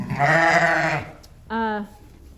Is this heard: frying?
no